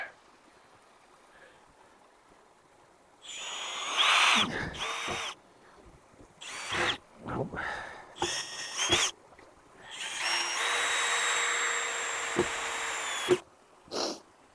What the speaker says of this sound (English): I'm putting the screws in such a way, instead of going straight in like that, I'm going in at an angle